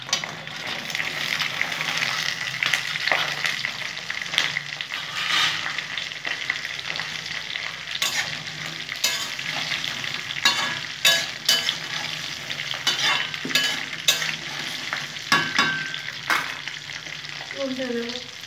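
Jujube plums tumble into a hot pan and are stirred for a sweet-and-sour pickle, giving a steady close sizzle and frying hiss with scraping stirs throughout, no voices.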